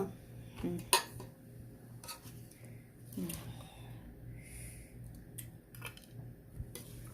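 Food being scooped and poured onto a plate while fresh Korean shrimp goi is made in a home kitchen. Soft scrapes and light clinks of utensil against dish come close and intermittent, with a few sharper taps, under low background noise.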